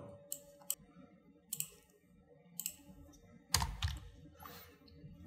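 A computer keyboard being typed on while entering slideshow text in DaVinci Resolve: sparse, quiet keystroke clicks in small clusters, then a louder burst of clatter near the end, with no talking.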